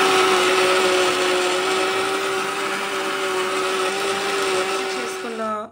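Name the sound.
mixer grinder blending watermelon cream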